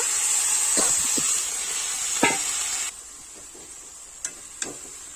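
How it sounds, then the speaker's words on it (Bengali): Spinach and potatoes are stir-fried in a pan, with a steady hiss that drops off partway and a few sharp spatula clacks spaced out over it, fairly near and with no voices. "আবারও কিন্তু পালং শাক আলু খুব ভালোভাবে নাড়াচাড়া করে কষাই করে নিতে হবে"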